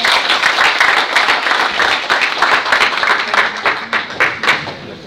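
A crowd claps at a Teacher's Day school event in Lima, dense and loud applause sustained without a break throughout, with a few faint voices mixed into the clapping.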